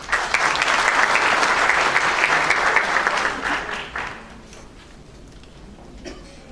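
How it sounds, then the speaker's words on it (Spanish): An audience at a university lecture on a constitutional court ruling gives loud, dense applause for about three seconds, then it tapers off into a quiet room with faint scattered claps. "con el aplauso de ustedes"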